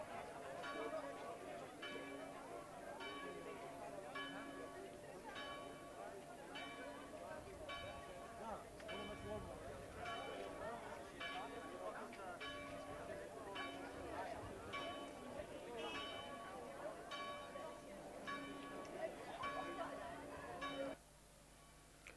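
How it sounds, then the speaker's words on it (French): Village church bells in Ronse (Renaix), Belgium, ring repeatedly in a steady pealing rhythm during the 1992 Fiertel procession, over a bustling crowd murmuring nearby, fairly loud throughout before dropping off near the end. "Les cloches du village nous appellent."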